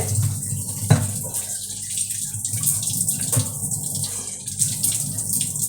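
Tap water runs steadily over bitter gourd being washed by hand, a close, continuous splash with a couple of sharper knocks and no talk.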